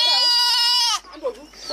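A goat bleats loudly and close for about a second, a sustained wavering cry, followed by faint rustling; the goats are kept by a Maasai beadworker in rural Kenya.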